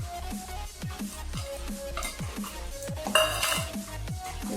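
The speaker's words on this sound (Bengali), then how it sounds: "এরপর অল্প অল্প জল দিয়ে খুব ভালো মতো করে একটা মিশ্রণ তৈরি করে নিচ্ছি" A batter of semolina, grated potato, carrot, ginger and water is mixed in a bowl, with a close, rhythmic series of spoon knocks and scrapes repeating steadily.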